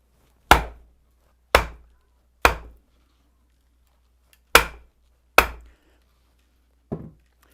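Wood being split with a froe for carving a wooden spoon, six sharp, sparse knocks from a wooden mallet striking the froe, close and loud with clean decay, with silence between blows.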